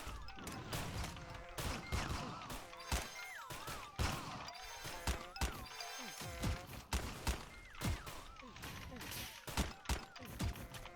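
Dragon Rifle firing in Graal Online Era, repeated sharp blasts and crashing hits in quick irregular volleys over a layer of tonal game sounds and effects.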